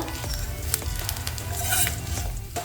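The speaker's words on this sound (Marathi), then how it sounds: "थोडं पीठ टाकायचं आणि मिक्स करायचं आणि गॅस कमीच ठेवायचा आहे" Flour stirred into a pan on low heat for Maharashtrian kothimbir wadi, giving a continuous dense sizzle with soft scraping strokes of a spoon close by and no talk.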